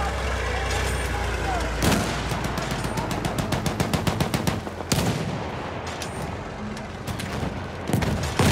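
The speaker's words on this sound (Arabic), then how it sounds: "يوجد مدفع رشاش." Rapid bursts of machine gun fire in the World War I shooter game Battlefield 1, loud repeated rattling volleys broken by heavier booming blasts, mostly without speech.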